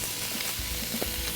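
Bacon sizzling in a little oil in a pan, a dense, steady crackling hiss close by, with faint spitting pops and no talking.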